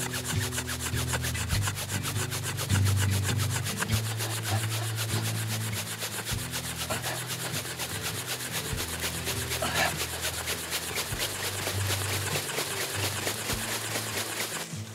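A wooden fire plow rubbed hard along a wooden board in the Northeast to make fire, producing a fast, continuous rhythmic scraping and grinding, close and steady with no talk.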